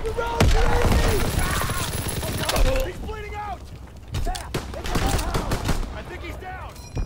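Gunfire in Call of Duty WWII beta: rapid bursts and single shots, close and loud, mixed with mechanical clanks and creaks, then quieter bursts later.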